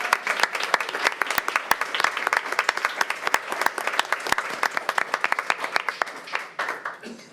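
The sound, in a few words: applause for the graduating class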